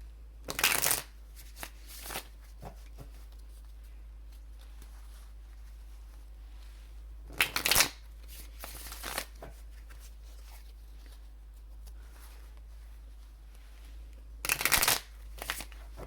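A deck of Tarot of a Moon Garden cards is shuffled in three short, crisp riffling bursts, close and separated by long quiet pauses with light handling noise.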